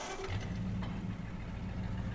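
An old tractor engine running steadily outdoors on a country farm, a continuous low mid-range chug without breaks, fairly close.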